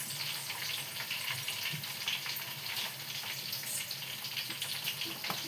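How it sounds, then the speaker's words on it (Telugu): Mustard seeds dropped into hot oil in a home kitchen, a continuous dense crackling sizzle that stays steady and fairly close throughout, with no talking. "ఇప్పుడు ఆవాలు వేసుకుందాం"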